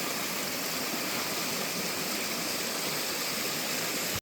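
A small waterfall on a mountain slope in Gangwon Province, South Korea pours in a steady, broad rush of water, close and fairly loud, with no voices.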